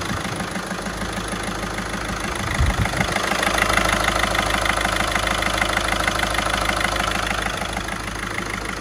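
A Volkswagen Caddy engine runs steadily at idle, a close, continuous rumbling drone that swells slightly partway through.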